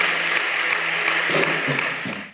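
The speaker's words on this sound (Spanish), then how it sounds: "Vamos a ponernos de pie y dar un fuerte aplauso al Rey." Brief burst of applause at a church service, a crowd clapping steadily for a couple of seconds before it fades out.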